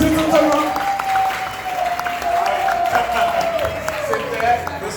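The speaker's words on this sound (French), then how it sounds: "On applaudit s'il vous plaît" Audience applause at a French-language eloquence contest, a steady patter of clapping hands that runs the whole stretch while a voice carries on over it.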